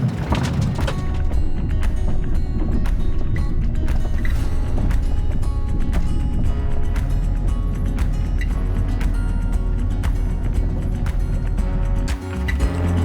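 A camper van on off-road tires climbs a bumpy mountain road, giving a loud, continuous low rumble with rattles and jolts throughout and no talking.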